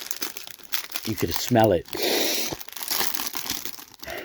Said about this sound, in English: The crinkle of a new pack of baseball cards.